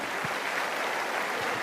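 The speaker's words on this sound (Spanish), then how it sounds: "Alguien tiene que aplaudir por la empatía de nuestro Señor" A church congregation claps together during a sermon, a dense, steady wash of applause filling the space without any voices.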